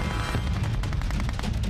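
Cartoon gunfire erupts in a fast burst of rattling, evenly spaced shots over a dense, loud, booming background.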